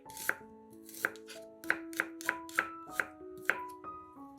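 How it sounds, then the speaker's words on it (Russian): A knife chops through an onion into half-rings on a cutting board, about eight crisp, evenly spaced strikes, close and clear with gentle music beneath and no talking. "Лук разрезаем пополам и нарезаем полукольцами"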